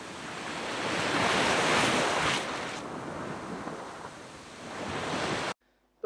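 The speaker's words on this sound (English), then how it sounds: "the reverse sound of the sea coming back over the pebbles sounded strange and slightly alien" Sea waves washing over a pebble beach, played in reverse so the surf swells and rushes backward; a loud, steady roar of water and stones that builds, then cuts off abruptly near the end.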